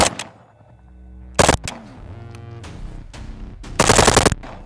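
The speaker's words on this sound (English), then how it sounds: "You can also hear how slow the AK-12 is on its cyclic rate compared to the" AK-12 and AK-74 rifles fire in short automatic bursts, loud and close, with sharp reports separated by brief pauses and ringing tails, letting the slower and faster cyclic rates be compared.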